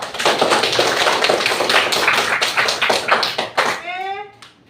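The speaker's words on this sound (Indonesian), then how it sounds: "Boleh tepuk tangan untuk semuanya." A classroom of students claps their hands for all the discussion groups, a dense burst of many overlapping hand claps that fades out near the end, followed by a brief voice.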